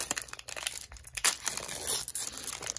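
Close crinkling and tearing of foil as a vintage Dragon Ball Z Artbox card booster pack is ripped open, a short burst of crisp wrapper rustles.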